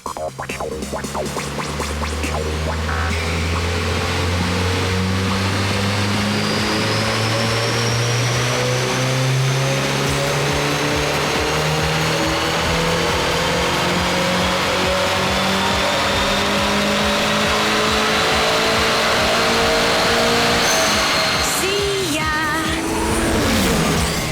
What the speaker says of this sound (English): They're going to strap it to this four-wheel drive dynamometer. We'll measure the horsepower and we'll tune the thing up